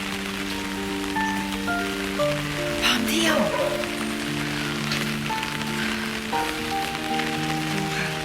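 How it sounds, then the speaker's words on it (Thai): Heavy morning rain in Lampang, Thailand, patters down in a constant hiss, with a few spoken words and some tonal background sounds. "ฝนตก ฝนตกหนักมาก ฝนตกตั้งแต่ ตีห้าครึ่งค่ะ"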